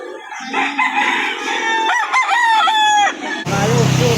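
A rooster crows loudly and close at a livestock market selling chickens, its strained, wavering call filling a few seconds before other fowl cluck and squawk at the end; a voice may murmur faintly underneath.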